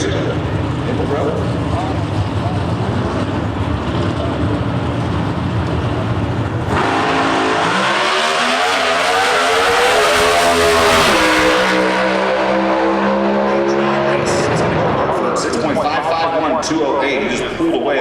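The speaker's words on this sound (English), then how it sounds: "He just pulled away on the other end of the racetrack." Pro Stock drag race cars at an NHRA Nationals event in Brainerd, Minnesota, roaring loudly as they launch and accelerate down the strip, engine pitch climbing through gear changes before fading far off, with a commentator talking over the noise.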